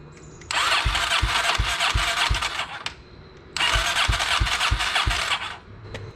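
Sherpa motorcycle being cranked on a charger's engine-start mode, two long attempts with the starter whining and pulsing rhythmically, each sputtering without catching, close and loud.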